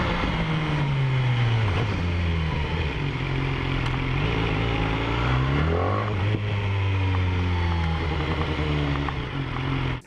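A BMW S1000R motorcycle fitted with a slip-on exhaust revs loud and close, a deep steady rumble that swells and drops back through several blips of the throttle, with no voices.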